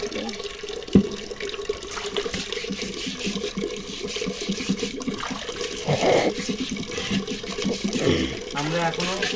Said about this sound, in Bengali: আগে ফিল্টারটা একটু ধুয়ে নিই